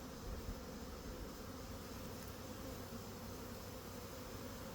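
Bees at a hive during an anti-swarming inspection: a steady, faint, dense buzzing hum that carries on without a break.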